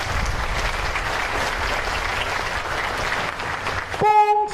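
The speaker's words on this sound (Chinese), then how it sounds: "我们再给各位辛苦的员工掌声鼓励。" Steady applause from an audience at a naval submarine construction groundbreaking ceremony at a shipyard, sustained and fairly even for several seconds before a brief tonal chime cuts in at the end.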